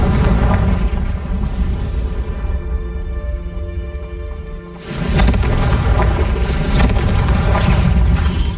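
Heavy, loud booming blasts from a Confringo fire spell in Hogwarts Legacy, a dense roaring explosion that drops briefly and then surges again with crackling debris.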